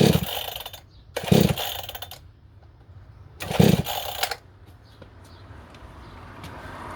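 Pull cord ripped on a chainsaw that fails to start: three short bursts of sputtering engine noise, each cutting out after about a second, separated by quiet gaps.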